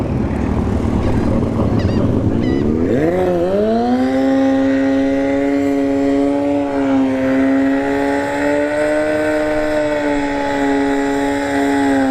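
A turbocharged Kawasaki ZX14 motorcycle at a drag strip, its engine rising in a quick sweep of pitch after a rough idle, then holding a loud, sustained high-revving drone close by for many seconds.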